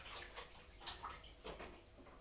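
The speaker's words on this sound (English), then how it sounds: "I'm just going to kind of whoosh it around in the water that I've got here for now" A cooking utensil, apparently a pancake pan or tool, is swished around in water in a home kitchen, giving faint soft sloshing and gurgling splashes in brief irregular surges, without voices.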